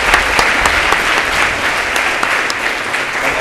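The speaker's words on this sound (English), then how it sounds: "let's give Carl a round of applause for doing great video." An audience at a lightning talks event gives a round of applause, a loud, steady wash of many hands clapping together with no voices over it.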